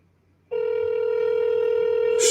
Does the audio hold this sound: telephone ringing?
yes